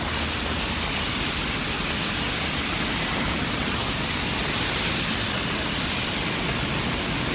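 Steady rain pours down, a dense, even hiss that fills the whole stretch without pause.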